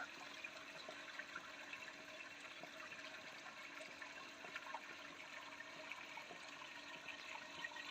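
Water circulates steadily through a hydroponic growing system planted with celery, making a soft, continuous rushing trickle that stays level and unbroken throughout, with no voices.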